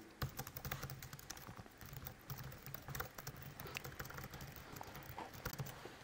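Continuous keyboard typing while a blog article is written, steady clattering keystrokes at close range throughout, with no voices.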